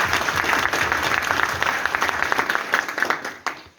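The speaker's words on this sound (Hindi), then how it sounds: "एक बार जोरदार ताली आप सबके सम्मान में।" A large audience at a live testimonial event gives loud, dense, continuous applause that fades out near the end.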